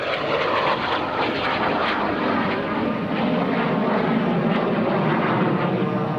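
A fixed-wing airplane makes a low, fast pass at about 250 to 275 mph over the runway at a military air force base open house air show, its loud engine roar sustained and close throughout.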